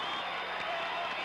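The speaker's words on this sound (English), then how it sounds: "The fans are standing and cheering all over the place." Basketball fans cheering in an arena during a 1993 game, a steady dense crowd roar that holds at an even level for the whole brief moment.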